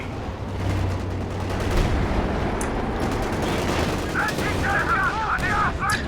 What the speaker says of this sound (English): Oh, some very deadly barrage here